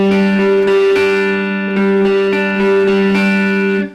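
An electric guitar with a chorus-tinged effect plays the strummed intro riff of a song, steady rhythmic chords ringing close and loud before cutting off at the end.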